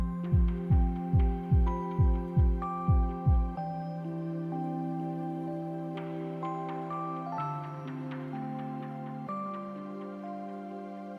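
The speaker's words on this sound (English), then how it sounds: "I have to listen to your heartbeats again for affinity" Video game heartbeat effect: about eight rhythmic thumping beats with a sustained hum, then a layered synth tone with shifting notes continuing steadily afterward, no speech.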